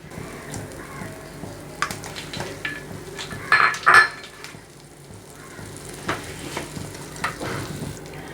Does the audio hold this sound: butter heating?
yes